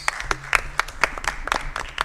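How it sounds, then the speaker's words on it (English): Scattered clapping from a small group, sparse and uneven rather than a full ovation, with faint room noise underneath. "give a round of applause again for our award recipients"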